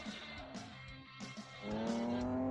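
A Tofaş car in a drift simulator game accelerates and slides, the engine note climbing into a sustained rev with tire squeal, loud and close with no talk.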